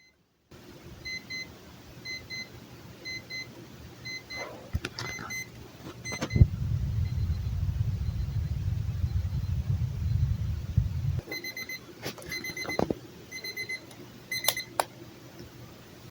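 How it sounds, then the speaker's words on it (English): A LEGO Life on Mars alarm clock rings in repeated bursts of high electronic beeps, close and clear, with clicks from handling and a low hum or rumble partway through. "let's see if we can get the alarm to work"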